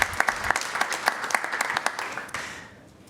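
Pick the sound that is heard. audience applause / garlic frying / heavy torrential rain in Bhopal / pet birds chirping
audience applause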